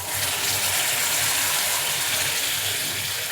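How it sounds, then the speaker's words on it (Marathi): Hot water pours into a pan of green chickpea curry in a loud, continuous gushing splash that lasts the whole moment without any talk. "पाणी गरम केले ते ओतते."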